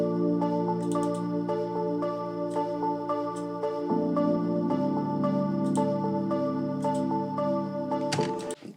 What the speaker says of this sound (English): Used echo drops on Purity.